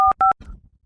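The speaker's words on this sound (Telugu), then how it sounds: "హరికి ఫోన్ చేస్తారా?" Two crisp touch-tone keypresses from a phone being dialed, each a steady dual beep in quick succession, followed by a short faint rustle.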